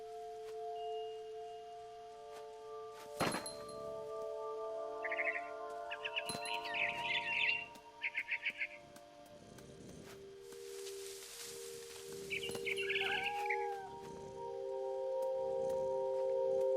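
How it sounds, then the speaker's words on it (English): Quick, thin chirps from a barn swallow in What Remains of Edith Finch come in two separate clusters. They sound faint and close over a quiet, steady musical backdrop, with a few sharp clinks between them. "Then I heard chirping outside my window. It was a barn swallow going back to her nest."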